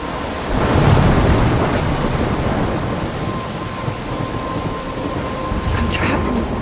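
A thunderstorm in the video game Life Is Strange brings a steady roar of heavy rain and wind, with a deep thunder swell near the start and the downpour continuing loud and unbroken.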